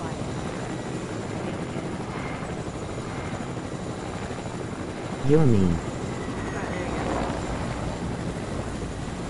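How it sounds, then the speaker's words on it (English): Helicopter in the Fortnite video game: a steady rotor drone holds throughout under casual voices talking, with a brief louder burst partway through. "If you can get in the chopper, then I'll fly."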